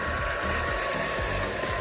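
A handheld dryer blows a steady, close whooshing hum over junk journal pages, with faint rhythmic handling scrapes beneath it and no talking.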